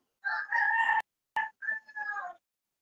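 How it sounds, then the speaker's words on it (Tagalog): A rooster crows twice over a live call, a clear near cock-a-doodle-doo followed by a second shorter crow, with brief clicks between and little else around it. "Naririnig ko yung manok mo."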